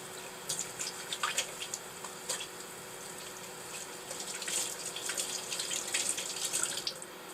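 Tap water runs steadily into a sink while hands are washed in an RV kitchen, a soft continuous hiss broken by splashes and dribbles, close and fairly quiet with no talk.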